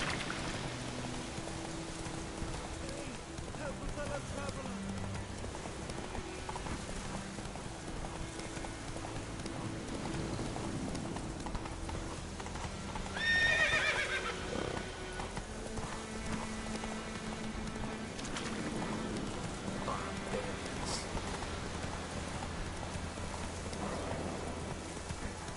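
Roach the horse gallops in The Witcher 3 with steady clip-clop hoofbeats throughout, a brief whinny standing out midway, over rain and ambient game music.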